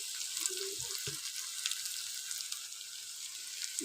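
Spices such as chilli and cumin powder fry in a pan for a bele fish and green pea curry. A quiet, steady sizzle runs throughout, with a couple of soft stirring knocks near the start.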